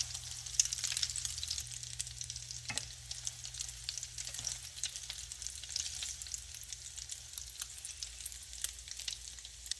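An oatmeal burger bound with egg fries in hot oil in a pan, giving a steady, moderately quiet sizzle with soft crackles throughout and no voices.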